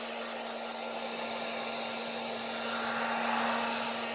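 Heat gun warming vinyl wrap on an OEM front turn signal for a Mazda Miata, a continuous close blowing whoosh with a steady motor hum that swells slightly toward the end, no voices.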